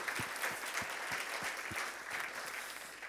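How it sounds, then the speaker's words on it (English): Audience at a tech conference talk clapping to welcome the speaker, a soft, distant wash of hands with a few sharper individual claps standing out. "So please give a warm applause to Seth."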